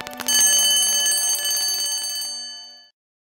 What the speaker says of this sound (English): Switch on a doorbell.